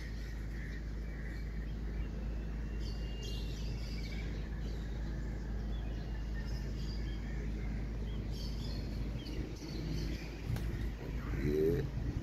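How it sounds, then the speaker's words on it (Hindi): A flock of about forty pigeons released to fly in overcast weather, with soft cooing and bird calls over a low steady hum and faint distant traffic. "ऐसे मौसम में कोई उड़ाता नहीं है कबूतर,"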